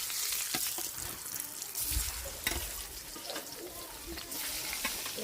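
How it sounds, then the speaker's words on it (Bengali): New potatoes fry in oil left over from frying eggs, making a continuous nearby sizzle with occasional scraping and stirring clatter, and no voices. "এই তেলেই নতুন আলু ভাজা নেব"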